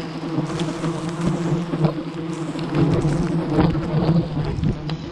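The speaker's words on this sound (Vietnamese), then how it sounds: "Ong nó bay rất chi là nhiều, nghe tiếng vu ve này rất chi là đá tay á mọi người." A large swarm of honeybees buzzes around a honeycomb on a cliff, making a dense, continuous, loud drone close to the microphone, with some wind noise and no speech.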